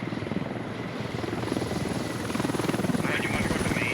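A helicopter flies close by in a military shooter game, its rotor chopping in a loud steady rhythmic pulse that grows slightly stronger toward the end.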